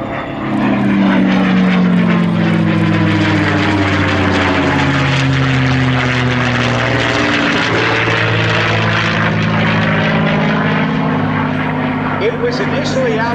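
A P-51 Mustang propeller fighter, originally fitted with an Allison engine, drones loudly overhead in a warbird flyover, its steady engine roar with shifting pitch filling the whole stretch and rising and falling as it passes.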